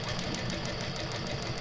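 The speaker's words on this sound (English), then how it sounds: "I'm just going to do a little lock stitch" A domestic sewing machine runs steadily, stitching back and forth to lock the seam on a slip pocket with decorative trim, a continuous close mechanical whir with a rapid rhythmic knock throughout.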